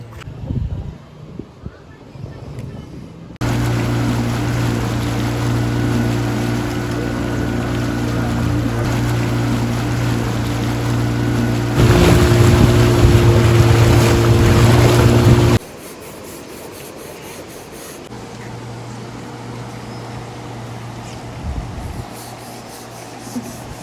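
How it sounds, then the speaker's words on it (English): A boat engine drones steadily at close range while crossing a river in Coorg, India, shifting to a rougher, louder pitch partway through before dropping to a lower rumble with water noise. "We have crossed the river from the boat"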